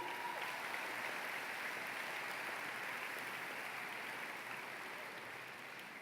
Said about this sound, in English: Give them a round of applause, absolutely.